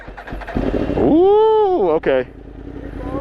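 Yamaha R1 motorcycle with an Akrapovic exhaust revving close by, one long rising-and-falling rev followed by a short sharp blip, with people reacting aloud around it.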